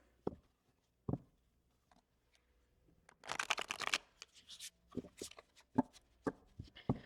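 Tarot cards from an Avian Tarot deck, with a few single taps and flicks followed by a close riffle shuffle, a burst of rapid fluttering snaps and then scattered card taps.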